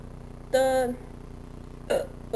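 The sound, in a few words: burp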